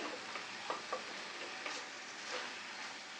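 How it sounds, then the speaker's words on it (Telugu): Curry with moong dal frying in a pan, a soft continuous sizzle with a few faint scraping stirs of a spoon against the pan, quiet and close with no talk. "కాసేపు ఇలా మధ్య మధ్యలో మనం కదుపుతూ వేయించుకోవాలి"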